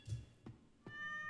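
A house cat gives a few short meows in quick succession, near and fairly soft, with no talking over them.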